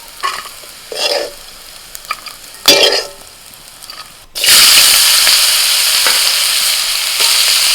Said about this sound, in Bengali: টক আর পেঁপে করলা ভালো করে ভেজে নিয়েছি এবার তুলে নেব